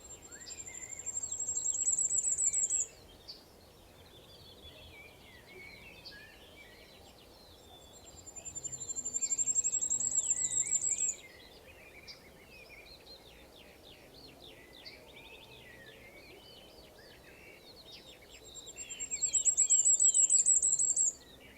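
Firecrest song from a recording: three separate very high-pitched, thin phrases that speed up and rise, each about three seconds long, repeated at intervals over faint background birdsong and ambient noise.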